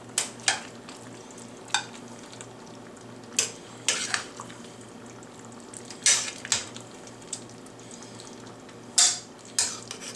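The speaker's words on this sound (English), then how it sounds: "I'm going to get a small plate and see if I can't scoop a little of this up." Artichoke shrimp spaghetti is scooped from a pan onto a small plate, with sharp utensil clinks and scrapes against cookware in irregular bursts over a quiet kitchen background.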